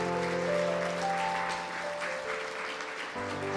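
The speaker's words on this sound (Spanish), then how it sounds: "Dale un aplauso al Señor." A church congregation applauds during a worship service, a broad wash of clapping blended with sustained musical tones from instruments in the background.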